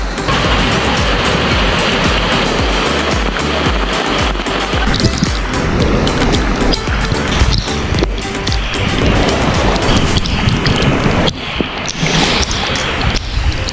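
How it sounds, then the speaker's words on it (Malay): Steady rain falling at a riverside campsite in Hulu Langat, a dense, continuous hiss that stays loud and even throughout, with no talk over it. "ini adalah keadaan waktu hujan dekat Tok Gindo Camp, Hulu Langat"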